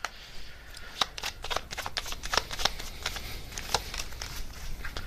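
Tarot advice cards being shuffled by hand, a run of crisp riffling flutters and soft slaps in an irregular rhythm, close and clear with no talking.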